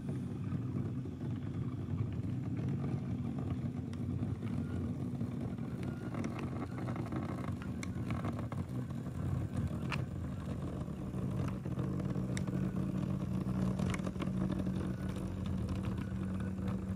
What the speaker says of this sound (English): Power car's coming up. It does sound a bit grumbly when it's going slow.